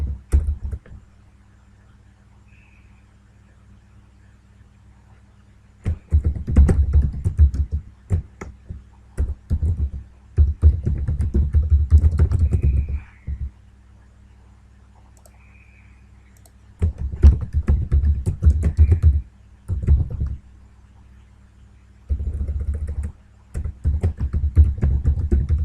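Close computer keyboard typing and clicking in bursts of rapid keystrokes separated by quiet pauses, several seconds each, with sharp individual taps.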